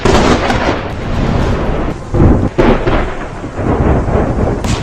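A loud, sustained rumbling roar with deep booming bursts, like a massive explosion blast echoing and rolling on for several seconds.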